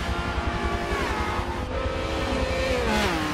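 A race car engine in Forza 7 at Circuit de Catalunya drones steadily at high revs, its pitch climbing and shifting through gears as the car exits a corner. The engine stays close and loud throughout.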